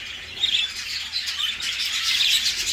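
Crested budgerigars in a breeding aviary chirp and twitter continuously in a bright, busy chorus, heard fairly close with no talking.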